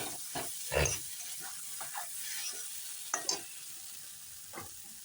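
Water hitting hot fried spice masala in a pan, heard as a steady sizzling hiss with scattered stirring clatters and a few sharper pops, close and moderately quiet, with no talk.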